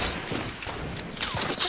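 Rapid gunfire from guns in a shooting video game, a quick volley of sharp cracks and thumps fired in bursts at close range, with a voice briefly heard.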